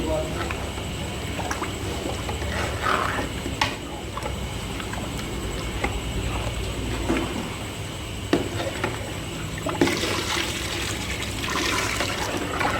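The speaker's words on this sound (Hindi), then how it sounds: "और साथ साथ में पानी डालते हैं।" Water is poured into beef nihari cooking over high heat, a soft splashing and trickling that comes and goes under a person speaking, with a few louder splashes near the end.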